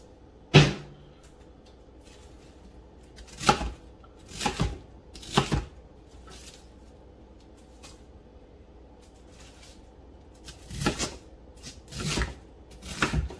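A kitchen knife chops cabbage for soup on a board, sharp close thuds in short irregular bursts separated by quiet pauses, with no talking.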